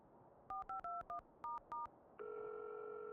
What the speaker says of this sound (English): He hastily took out his phone, took off his glove, and typed something in the contacts section.